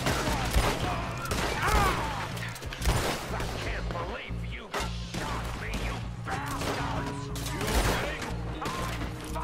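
Gunfire in the video game Red Dead Redemption 2, a dense fusillade of shots and cracks running throughout under a busy game mix, fairly loud and continuous.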